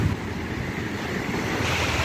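Ocean surf washes onto a harbour beach at Kootapuli, a loud continuous roar of breaking waves mixed with heavy wind buffeting the microphone.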